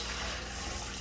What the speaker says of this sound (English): we're getting ready to strain this water.